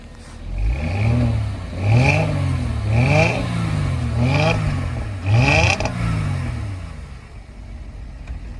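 A 2010 Mercedes-Benz E-Class engine revs from a cold start in several repeated bursts, rising and falling, with a clattering exhaust note, fairly close and loud.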